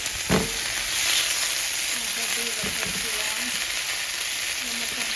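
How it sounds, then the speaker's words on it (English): Peppers, onions and minced garlic frying in a pan give a steady broadband sizzle, with a couple of brief utensil clatters near the start and middle. "But now we're cooking the peppers, onions, and garlic."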